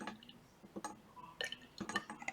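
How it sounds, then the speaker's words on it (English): Lime water, a colorless calcium hydroxide solution, poured into a glass test tube: a few short, faint splashes and light glassy clinks in separate bursts, close by and quiet, with no talking. "So I'm going to pour my lime water into the test tube."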